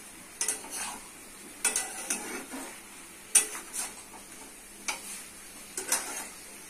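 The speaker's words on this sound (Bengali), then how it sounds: "দিচ্ছি সবজি, ভালো করে কষিয়ে দিতে হবে" Vegetables with soybean and tomato being stirred in a pan, a series of distinct scraping and clinking utensil strokes spaced about a second apart over a faint sizzle, close up with no talking.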